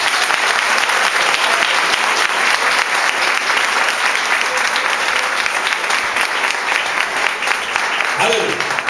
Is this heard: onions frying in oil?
no